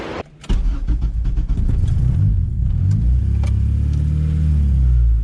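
A cold Honda Integra with a swapped K24 engine is started and held on the throttle, a brief starter burst giving way to a loud, steady, slightly wavering rev close by, running on alone without speech.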